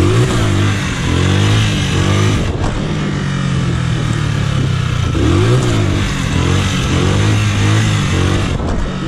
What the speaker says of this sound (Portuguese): Olha que agora a motinha.